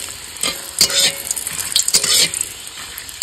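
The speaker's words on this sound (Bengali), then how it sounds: "এই দেখো শুকনো লঙ্কা, ব্যাস এই কড়া করে ভাজা হবে" Dry red chilies frying in hot oil crackle and sizzle loudly and close by, in irregular bursts with spoon stirring scrapes.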